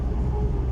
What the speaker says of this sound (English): it's because I'm driving on this white line